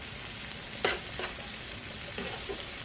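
Corned beef sizzling in a pan with onions and vegetables, a steady frying hiss under a few soft scrapes and clinks of stirring.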